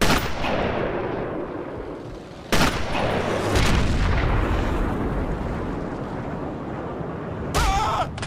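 Sniper rifle shots from the video game Sniper Elite crack out loud, with two sharp booms rolling into heavy reverberant echo over a dense, continuous game soundscape.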